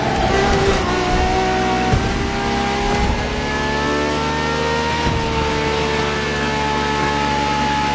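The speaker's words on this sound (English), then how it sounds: "strongest naturally aspirated Ferrari V12 to date, marking Ferrari's first steps into hybrid technology" Ferrari naturally aspirated V12 hybrid car driven in the Motorfest video game, its engine roaring loudly and steadily with a high, sustained whine that shifts pitch slightly, plus a brief tire squeal.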